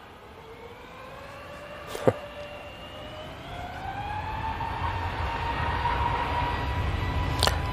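An EasyJet Airbus A320neo jet bound for Geneva powers up for takeoff at Manchester Airport, its engine whine climbing steadily in pitch over a growing broadband roar, with two sharp clicks along the way.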